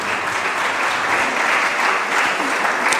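An audience applauds during an Italian lecture on Montecatini Liberty architecture and UNESCO, a steady, even wash of many hands clapping throughout.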